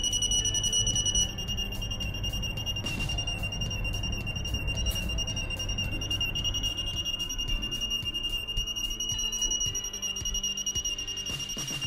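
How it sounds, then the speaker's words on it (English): Continuous electronic alarm from an H2S T40 gas monitor, a steady high-pitched tone with rapid repeating beeps over a constant background hum, loud and close throughout. "after 20 it will be the continuous alarm"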